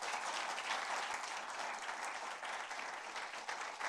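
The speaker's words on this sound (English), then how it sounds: "let's put our hand together" An audience at a talk show claps to welcome a guest lecturer, a steady, even wash of many hands heard fairly quietly throughout.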